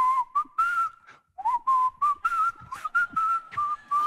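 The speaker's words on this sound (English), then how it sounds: "The song he was whistling was this." A person whistles a melody alone, clear and close, in short phrases with brief gaps between notes.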